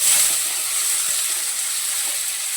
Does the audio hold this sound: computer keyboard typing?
no